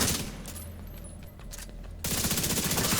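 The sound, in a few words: gunfire in video game The Division 2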